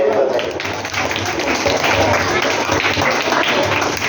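An audience at a school literary festival applauds for a guest named Sudha Mulgaonkar, a dense, steady round of clapping that fills the hall throughout, with some talk mixed in.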